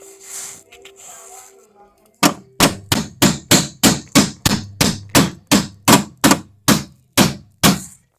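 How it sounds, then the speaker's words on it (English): Hammer blows on a construction site: about fourteen loud, sharp strikes in steady, even rhythm after a quiet start with faint background noise. "once I get this hammered in"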